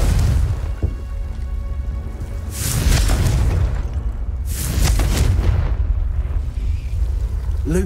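In the video game Hogwarts Legacy, the Confringo spell sets off two loud, roaring explosion bursts over a steady rumbling background, with no speech.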